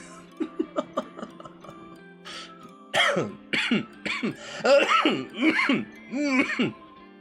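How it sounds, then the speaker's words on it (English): A few short coughs, then a string of harsher, louder coughs and throat-clearing bursts, close by with no other sound. "I'm still coughing."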